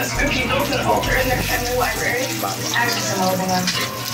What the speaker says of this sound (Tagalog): Pag naging glossy yan, ilalagay na natin yung ating bawang.